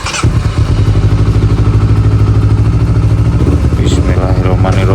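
A Suzuki GSX150-class motorcycle engine starts up close by, then settles into a loud, steady idle with a low rumbling throb that holds for several seconds, ending with a couple of brief clattering sounds.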